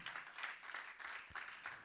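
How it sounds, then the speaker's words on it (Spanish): A church congregation claps along during a Spanish-language service, a quiet, steady patter of hands with soft rhythmic swells and no voices over it. "Dale palmas al Señor"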